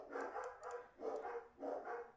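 Dogs bark in a repeated string of three bursts, muffled and somewhat distant, with short pauses between them.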